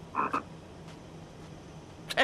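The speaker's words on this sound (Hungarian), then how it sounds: "Békák!" Frogs croak in a few short, loud bursts near the start and again at the end, with quiet background in between.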